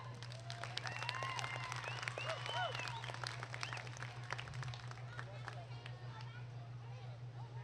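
An audience applauds young goat showmanship contestants at a livestock show, a steady wash of clapping mixed with crowd chatter and children's voices, over a constant low hum.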